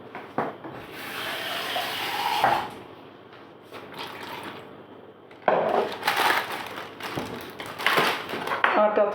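Water pours into a pan of white mushroom curry during cooking, a splashing, running stream near and fairly loud in two bursts with a quieter pause between.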